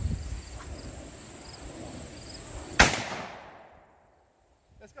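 A .50 BMG rifle firing a full metal jacket round at steel plates outdoors: one sharp, loud report at a distance, followed by a long rumbling echo that decays into quiet, with insects faintly chirping beforehand.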